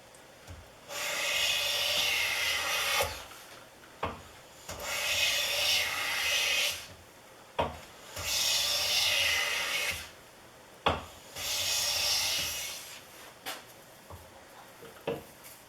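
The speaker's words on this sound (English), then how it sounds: "I've switched over to walnut to see how thin of a shaving I can get." A Stanley No. 605 Bedrock jack plane takes thin shavings off walnut in four long, steady hissing strokes, each a second or two long with brief pauses and soft knocks between passes, close and fairly quiet with no talking.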